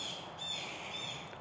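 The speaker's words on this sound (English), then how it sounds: "those birds are going crazy" Several birds chirp outdoors in quick, busy calls over steady background noise. It is a brief moment with no talking.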